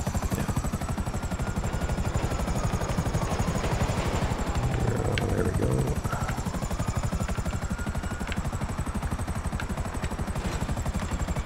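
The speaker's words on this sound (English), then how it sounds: "Very cool stealth helicopter." Stealth helicopter from GTA Online flies with a loud, continuous rotor chop and whining turbine hum, steady and close throughout with no talk.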